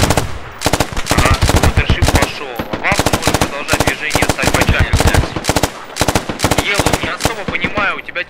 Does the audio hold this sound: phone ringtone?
no